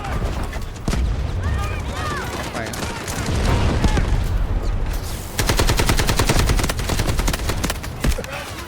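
AKM assault rifle fire in the shooter Delta Force, rapid loud automatic bursts that intensify into a fast steady rattle in the second half, with battle noise around and some talk.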